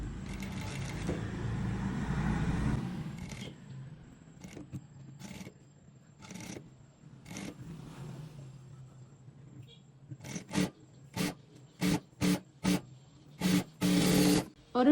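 A sewing machine stitches the sleeve of a frock: a longer continuous whir, then a series of short, regular bursts of stitching that grow louder toward the end.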